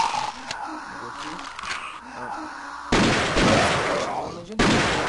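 Pistol fire in the video game CS Nexon Zombies: sharp shots and bursts of gunfire, loudest in two abrupt blasts in the second half, with a voice talking in the background.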